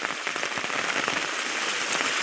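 Heavy rain pours down steadily in a village, a dense hiss of drops with scattered crackling patters on surfaces. The noise is constant and moderately loud, with no voices.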